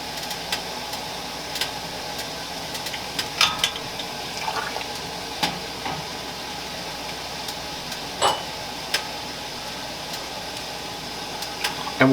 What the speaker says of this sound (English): I'm going to submerge several clean jelly jars in the boiling water.